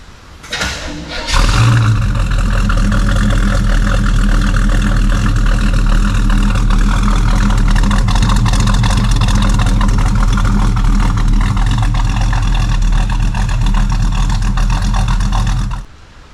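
A 1934 Chevrolet sedan engine starts with a short crank, then settles into a loud, steady idle with a deep low rumble that runs close and even for about fourteen seconds before cutting off.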